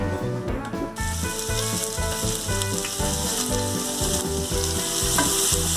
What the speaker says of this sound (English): Stir the onion well.